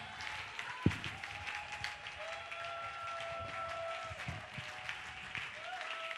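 Applause from a church congregation during a worship service, fairly faint and steady, with voices and sustained tones underneath and a sharp knock near the start.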